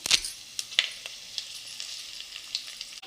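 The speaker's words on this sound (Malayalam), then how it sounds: "കറിവേപ്പില ഇടാം." Curry leaves hit hot sesame oil with sharp crackling pops up front, then settle into a steady, soft sizzle with a few scattered spits.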